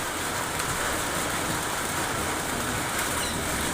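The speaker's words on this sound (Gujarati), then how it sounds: "સુરવામાં અનરાધાર વરસાદ" Heavy unseasonal rain with hail pounds down in Surva village, Gujarat, a loud, continuous, dense roar of falling water that stays steady from start to finish with no voices.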